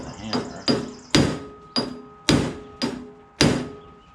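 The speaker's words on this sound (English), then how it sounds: "you hit it with the hammer," A hammer strikes an impact driver to break loose screws on a 1940 Ford truck door, seven sharp metallic blows landing roughly every half second, each ringing briefly before the next.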